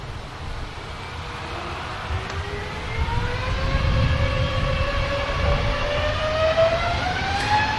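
An EasyJet Airbus A320neo airliner at Manchester Airport gives off a rising, multi-toned engine whine over a low rumble, swelling steadily louder as it spools up.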